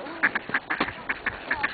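Ducks quack repeatedly in short, nasal bursts at an uneven rhythm, fairly close, with no talking over them.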